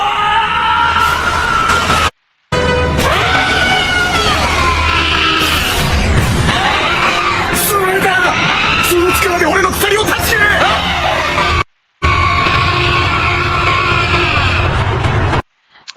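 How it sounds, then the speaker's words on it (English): Screaming from a character in the Bleach Rebirth of Souls fighting game, loud and sustained over a dense bed of game effects and music, with two brief silent gaps. "I like that scream. I like that scream a lot."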